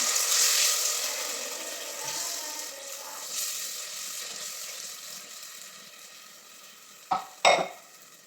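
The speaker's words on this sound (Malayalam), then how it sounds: "ഉള്ളിയും തേങ്ങയും പൊടിയും വാട്ടിക്കണം" Onion, grated coconut and spice powder sauté in a pan, giving a soft, continuous hiss that fades slowly, with a couple of louder scraping stirs near the end.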